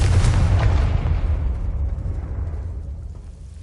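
A single deep boom from a blasting curse in a wizard video game, a heavy explosion that hits at once and then rolls off into a long fading rumble.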